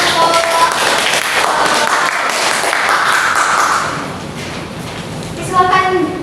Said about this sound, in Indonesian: Oke, tepuk tangan kepada kelompok.